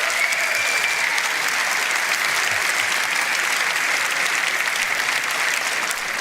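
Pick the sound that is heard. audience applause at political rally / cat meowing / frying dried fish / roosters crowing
audience applause at political rally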